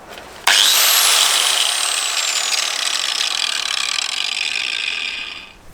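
An angle grinder fitted with a new chain disc spins up abruptly in a test run and whines steadily at high pitch for several seconds before winding down at the end.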